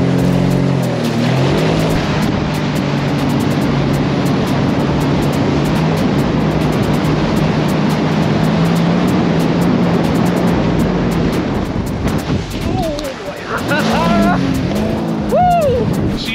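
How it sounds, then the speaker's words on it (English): Jet ski ridden on open water, its engine a steady loud drone throughout, with bumps and splashing near the end and voices briefly heard over it. "Okay, we're going jet skiing."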